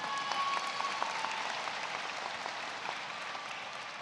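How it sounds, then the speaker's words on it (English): Steady audience applause fills a law school commencement ceremony hall, a dense wash of many hands clapping at moderate distance for several seconds, fairly even throughout with no voices over it. "you could applaud that too if you want"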